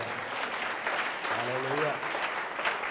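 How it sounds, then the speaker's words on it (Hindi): A church congregation claps together for about three seconds, a dense steady wash of applause with a voice rising briefly over it midway. "ताली बजा दो एक बार।"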